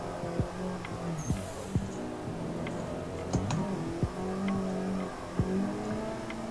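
Video game car engine droning steadily through a clutch kick drift, its pitch rising and falling in a tandem run, with sharp mouse or keyboard clicks ticking at intervals over it.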